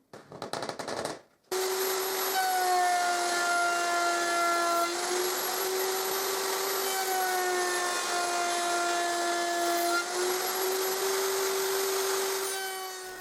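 A router table cutting tenons with a roller tenoning sled, a loud steady high-pitched whine with a rough rushing cutting noise held for several seconds after a short burst of clatter at the start.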